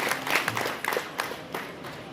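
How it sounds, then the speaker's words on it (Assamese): Audience clapping to welcome the chief guest on stage at an ONGC Purbanchal Employees' Association felicitation event, a scattered, moderately loud round of applause with some louder individual claps standing out. "সকলোকে এজাউৰি হাত চাপৰি সৈতে তেখেতক অভিবাদন জনাবৰ কাৰণে আহ্বান জনাইছোঁ"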